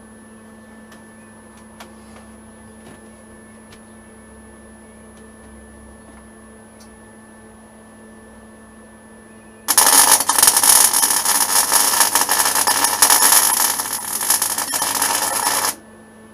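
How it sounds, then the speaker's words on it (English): Gas welding on metal in a home workshop, fed from a small hobby gas bottle: a loud, steady broadband hiss and roar starts abruptly after a quiet stretch of low hum, holds for about six seconds, then cuts off. "just got to get the welder ready and start doing some welding."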